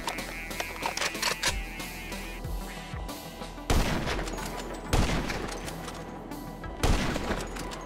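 Gunfire rings out in a shooter video game: scattered sharp single shots, then three louder bursts at regular intervals over a busy background of game sounds.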